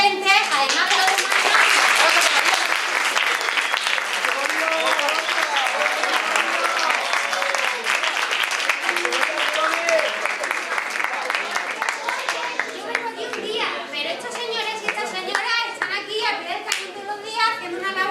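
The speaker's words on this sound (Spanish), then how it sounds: "le vamos a dar un aplauso a todos los docentes" An audience of children and adults at a school STEM celebration for International Women's Day applauds all the teachers, a loud, sustained round of clapping that gradually thins while children's voices and chatter rise toward the end.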